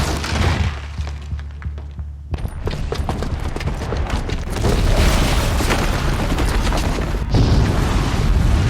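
A bomb blowing up in the video game Horizon Zero Dawn, a deep booming roar that surges after a sharp crack and keeps rumbling with crumbling debris and shattering.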